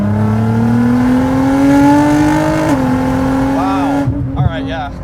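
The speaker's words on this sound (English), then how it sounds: "Like the turbos on this car, just, they don't let up." A 2009 Nissan GT-R with 650+ horsepower and turbos pulls hard from inside the cabin, engine note rising steadily, then a brief shift dip and another climb, loud and close.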